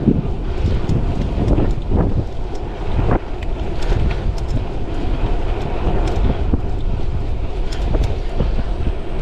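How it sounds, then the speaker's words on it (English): Steady wind buffeting a microphone while riding a folding electric bike, a constant rushing roar with occasional gusty thumps and no voices. "it's a little bit windy."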